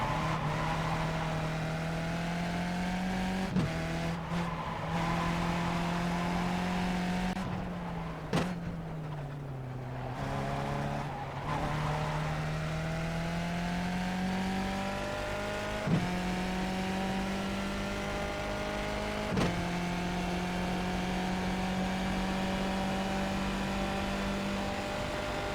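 Race car engine from the iRacing sim game holds a steady, loud drone, its pitch sliding up and down through gear changes with a few brief sharp dips and shifts, continuous throughout with no talking.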